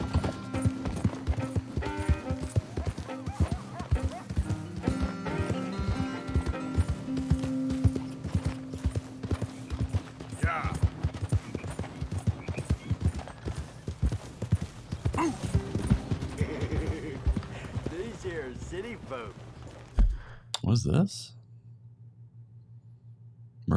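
Horse hooves clip-clop steadily in Red Dead Redemption 2, a continuous close rhythmic trot running under game music and ambience for most of the stretch before fading near the end.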